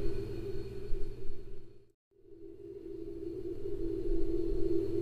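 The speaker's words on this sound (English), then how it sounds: "The sounds you are hearing are those that come from Pluto" Eerie, droning space-style sound presented as coming from Pluto, a steady low hum with a hollow whooshing texture that briefly cuts out near the middle, then swells back, with no voices.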